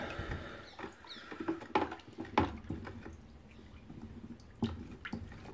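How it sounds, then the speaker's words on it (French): Glue for a Jaguar X300 headliner repair is poured along the sides of swirling water while a stick stirs it, giving irregular close splashes, drips and sloshing knocks with quiet gaps between. "L'idée c'est de faire un tourbillon et puis on va verser, non pas au centre mais sur les côtés, notre colle"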